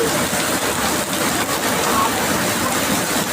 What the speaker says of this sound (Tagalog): Ayaw pa tumigil ang ulan.